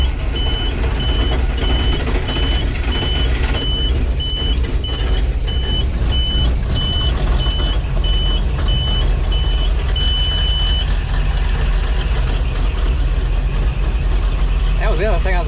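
An International 8700 truck idles steadily as its engine warms up, a loud continuous diesel rumble with a repeating reversing-style beep over it, and a voice speaking nearby.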